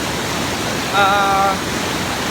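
The Tujuh Bidadari waterfall in Aceh roars as a constant, loud wash of broadband rushing water. A brief high whistling tone rises above it midway.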